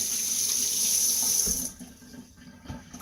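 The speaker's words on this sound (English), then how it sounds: "We're going to put that and run that under the water real quick." Tap water runs steadily from a kitchen faucet over a husked tomatillo for about a second and a half, then cuts off, leaving a few soft handling knocks.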